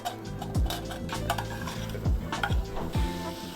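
Jerusalem artichokes are stirred into a pan with garlic and thyme, a utensil knocking and scraping against the pan in several quick strokes over a soft continuous background, close up.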